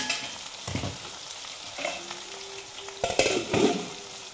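Colocasia (kochu) greens are stirred in a hot pan, with a steady frying sizzle and a few louder scraping strokes of the spoon near the end, close and with no talk.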